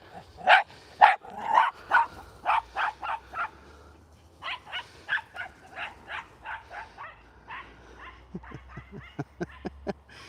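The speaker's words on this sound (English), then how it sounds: "2 seconds while we stop the barking." Dogs bark repeatedly at close range, a steady run of sharp barks with short gaps, some higher yips toward the end.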